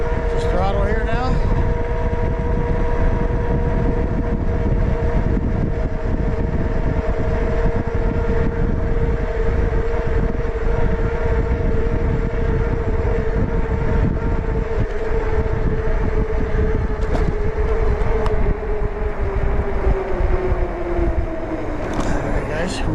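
Electric hub motor of a JASION X-Hunter ST folding e-bike (1400W peak) running on throttle, a steady rising whine with tonal bands over continuous road and wind noise, held throughout and fading slightly near the end.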